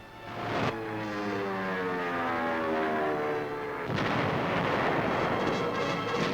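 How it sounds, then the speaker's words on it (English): Massed artillery, some 200 guns, pounds a German city in the Rhine Valley during the Allied advance: a loud, continuous roar with a sustained droning whine that gives way to dense, rumbling bombardment noise. "200 guns joined the attack."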